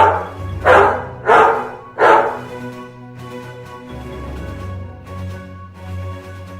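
A dog barks three times in quick succession, loud and close, followed by lower growling and whining sounds with no talking.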